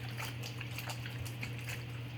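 Plain water rinsing a cleaned, crusty tractor battery indoors, a faint continuous splash and trickle over a steady low hum, with no talking.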